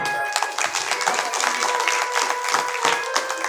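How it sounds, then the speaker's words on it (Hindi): Brief applause from the gathering at a Bhagavat katha in Modinagar, a loose patter of hands clapping with a steady tone sustained underneath throughout. "आप लोगों के लिए भी एक बार जोरदार तालियां"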